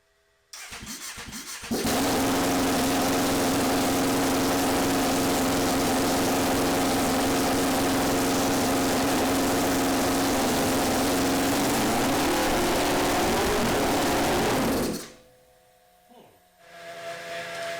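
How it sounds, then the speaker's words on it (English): A Yamaha Phazer 80hp snowmobile engine in an airplane conversion starts and roars loudly at a steady high pitch for about thirteen seconds, then cuts out abruptly and leaves only quiet fizzing. "So I'm going to fire this up real quick, make some noise."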